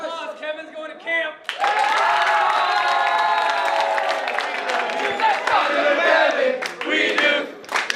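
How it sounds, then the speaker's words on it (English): Crowd of youth soccer players and families in Frisco, Texas, cheering, whooping and clapping for Kevin, who is heading to FC Dallas camp. The cheering is loud and continuous and rises in bursts, with shouting voices mixed in. "round of applause"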